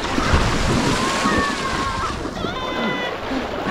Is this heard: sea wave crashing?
yes